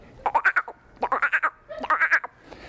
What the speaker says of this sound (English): if you're out in the forest and you hear the frogs calling